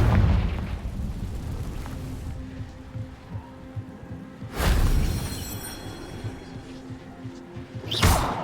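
Fiery Confringo blasting spell in Hogwarts Legacy, a loud booming explosion up front with a rumbling tail, then a second sharp burst about halfway through and another blast near the end.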